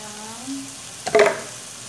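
Chicken pieces dropped into a hot pan for Filipino kinamatisang manok with tomatoes, a brief burst of sizzling frying about halfway through, close and fairly loud over a quiet kitchen hum.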